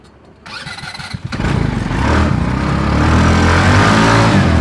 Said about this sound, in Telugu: మీకు ఒక చిన్న ఎక్సిలేటర్ ఇవ్వగానే బండి ఎట్లా లేస్తుంది మీరు చూడరు ఆటోమేటిక్గా